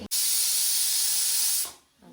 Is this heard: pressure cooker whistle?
yes